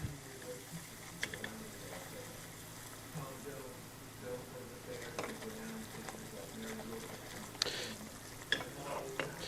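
Butter and flour cook together into a roux in a pan, giving a soft, low sizzle with occasional scrapes and clinks of a utensil against the pan. A voice speaks intermittently.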